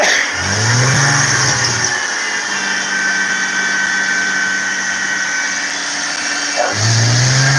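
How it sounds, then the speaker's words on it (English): A car engine revs hard at a garage as the tyres spin, a loud sustained roar with rising and falling pitch swells at the start and end, steady strain through the middle, no talking. "Just keep spinning the wheels, Barry."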